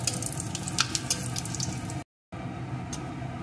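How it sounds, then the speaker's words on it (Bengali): Dried red chillies and five-spice tempering fry in hot oil, giving a steady close sizzle with scattered crackling pops, broken by a brief gap of silence before the frying resumes. "এখন ফোড়নগুলোকে একটু লাল লাল করে ভেজে নেব"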